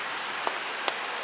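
Rain falling on a town street during a walk, a steady soft hiss of drops on wet surfaces with two brief sharper patters, no voices.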